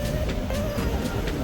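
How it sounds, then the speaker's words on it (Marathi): Passenger train moving near the last stop at Karjat station, a loud continuous rumble with faint rhythmic wheel clatter, close by and without talk. "बाजूनी तुम्ही पाहू शकता ट्रेन चाललेली आहे"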